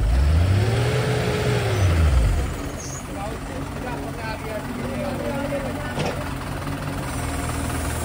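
A JCB excavator engine running at a steel plant near a cooling tower, a loud steady diesel rumble with a rising then falling drone at first before settling into a constant low roar, with voices talking over it.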